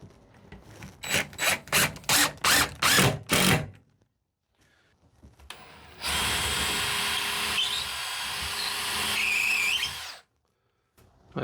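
Power drill driving 2.5-inch screws with a clogged bit during a box van build, giving about seven short loud revving bursts, then a long steady high whine for roughly four seconds, close and alone.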